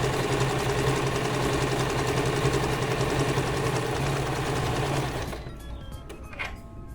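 A sewing machine runs a topstitched seam, as used on jeans, as a fast, steady, close mechanical chatter for about five seconds before it stops, leaving faint handling sounds.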